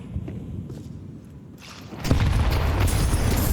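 Grenade blasts in Counter-Strike, a loud booming burst erupting midway and rumbling on to the end after quieter shuffling and movement sounds.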